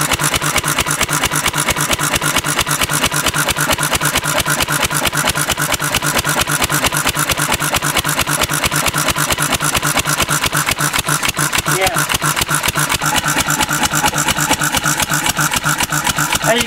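A small gas engine running on 91% rubbing alcohol instead of gasoline, chugging in a fast, steady, even rhythm close by, loud and unbroken throughout with no talk.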